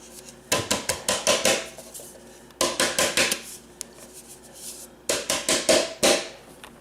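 A floured metal cake pan for cream cheese pound cake is shaken back and forth, making bursts of rapid rattling clatter in three separate rounds with short pauses between, close and sharp.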